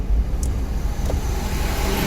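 A car pulls away from a standstill as the clutch is slowly released under light throttle, giving a steady, loud low engine rumble with road noise.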